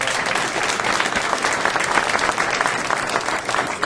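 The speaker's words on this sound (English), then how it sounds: "I think that deserves a round of applause" A crowd of guests applauds at a ribbon-cutting ceremony for a store's grand opening in Queens. The applause is a dense, steady wash that holds for several seconds with no voices over it.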